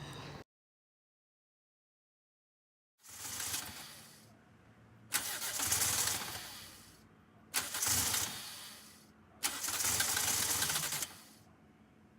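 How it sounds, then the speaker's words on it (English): A Honda Del Sol with a rebuilt B20 VTEC engine cranks and tries to fire, three loud bursts of starter churning and rough revving separated by short pauses, close by, after a brief silent gap. "We think that the Del Sol is about to start up for the first time ever"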